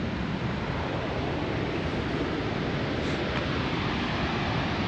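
Cumberland Falls in Kentucky rushes steadily, a dense unbroken roar of falling water that stays loud and even throughout.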